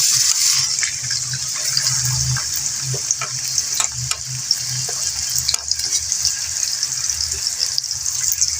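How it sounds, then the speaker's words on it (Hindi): Two finely chopped onions dropped into hot ghee for a fish curry: loud, continuous close sizzling with occasional stirring clicks and scrapes from the pan. "तो ये देखें घी गर्म हो गया है, तो उसमें डालने लगी हूँ मैं प्याज"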